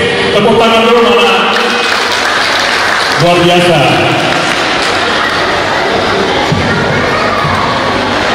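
A crowd at a community association inauguration claps and cheers loudly, with shouts and whoops over dense clapping and a voice speaking briefly through the noise.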